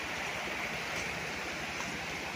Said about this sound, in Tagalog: So katabi ito ng ilog mga kapraps.